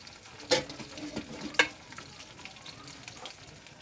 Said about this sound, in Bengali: অল্প জল দিয়ে নেড়ে নিলেই হয়ে যাবে